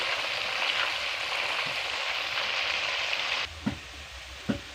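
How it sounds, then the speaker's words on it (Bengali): Jackfruit slices fry in hot oil with turmeric, a dense, even crackling sizzle up close that drops off sharply partway through, followed by a couple of brief utensil knocks. "এটা ভালো করে ভেজে নেব একটু কালার আসার জন্য"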